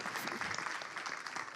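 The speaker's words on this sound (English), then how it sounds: "Big round of applause for Melissa Kentani" An audience applauds the moderator at the opening of an art exhibition and Women's Day event, with a steady, dense wash of clapping that holds evenly throughout without any voices.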